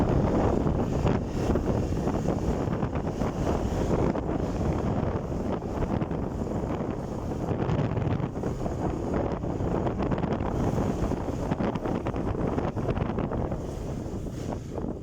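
Cold wind buffets the microphone in a steady, loud low rumble that lasts throughout, with no clear speech over it.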